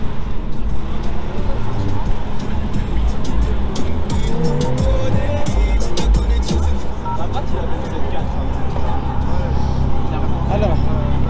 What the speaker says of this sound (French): c'est une BMW Z4. Avec la face avant.